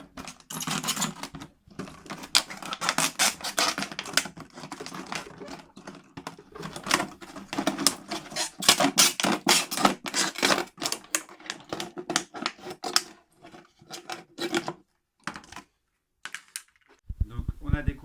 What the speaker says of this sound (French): il faut découper en rond à peu près de la taille de notre bouteille d'origine